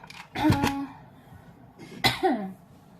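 Two harsh coughs, the first a quick burst and the second a single sharp cough a second and a half later, close and loud.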